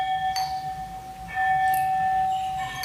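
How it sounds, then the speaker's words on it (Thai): A temple bell in Thailand struck for the midday meal, two clear ringing strikes with long sustained tones fading out over quiet outdoor ambience. "เสียงระฆังตีเพลงแล้ว"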